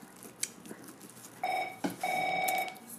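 A house telephone rings in two electronic tonal bursts, fairly loud and close, after some faint background rustling.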